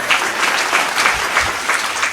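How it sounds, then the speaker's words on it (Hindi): An audience at an academy cultural event applauds, steady dense clapping from many hands, close and loud for the whole stretch. "ताली वाली बजा दीजिए।"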